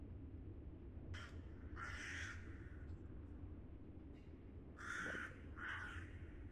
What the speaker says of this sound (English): Are there birds living down in here?